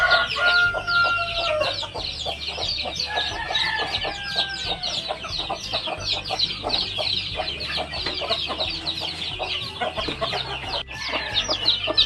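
Native and Rhode Island Red hens with chicks cluck and chirp continuously and close by, with a rooster's crowing in the mix, in a busy farmyard chorus.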